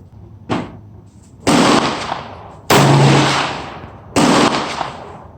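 Four sharp, loud handgun reports, from a .460 S&W revolver, .357 Magnum S&W or 10mm Glock G40, ring out at irregular intervals, the last three especially powerful, each followed by a brief decaying echo.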